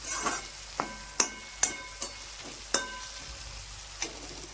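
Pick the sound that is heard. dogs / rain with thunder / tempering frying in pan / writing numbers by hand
tempering frying in pan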